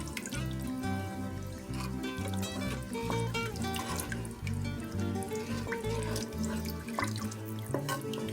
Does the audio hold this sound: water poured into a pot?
yes